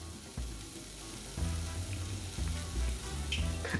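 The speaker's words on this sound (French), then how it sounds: "Dans une casserole sur feu moyen, mettez vos carapaces de crevettes." Shrimp shells fry in olive oil in a saucepan over medium heat, a steady close sizzle broken by a few louder crackles and stirring bursts.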